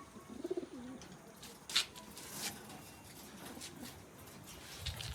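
Soft cooing of pigeons, a short low burbling call early on, then quiet rustling and faint flutters; birds recently dusted with Notix powder for lice.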